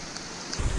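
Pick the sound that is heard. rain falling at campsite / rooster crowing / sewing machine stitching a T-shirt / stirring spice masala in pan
rain falling at campsite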